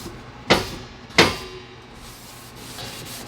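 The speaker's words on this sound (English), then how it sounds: "Just going to rub this on the top and then try to get in between the grates too." Oil is rubbed onto metal grill grates after grilling chicken, two distinct scraping strokes followed by softer rubbing, close and fairly quiet, with no speech.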